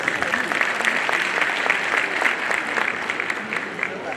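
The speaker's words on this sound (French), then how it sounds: "je pense que vous méritez tous ensemble des applaudissements très forts" Conference audience at a formal gathering gives sustained, loud applause, a dense and even roar of many hands clapping without pause from start to finish.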